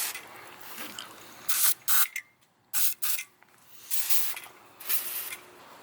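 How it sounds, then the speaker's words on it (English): A refillable pressurized sprayer lets out several sharp hissing bursts, some short and some longer, close by with brief quiet gaps between sprays. "Especially if you're trying to spray some grease off or something."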